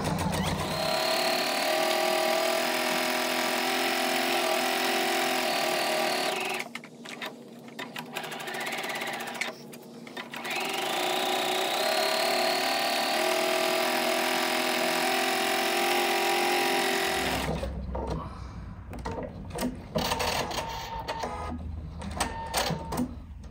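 A sewing machine runs loudly and close while stitching along the bottom edge of a lined sunflower apron, with a rapid, steady mechanical whir that breaks off twice in short pauses before continuing, then stops.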